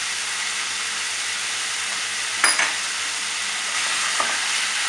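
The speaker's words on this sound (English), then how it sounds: "Fry for 4-5 minutes." Tomato puree and garam masala powder fry with mutton in a pan for a mutton curry, giving a steady broad sizzle and hiss throughout, with a couple of brief scraping stir clatters midway and no talking.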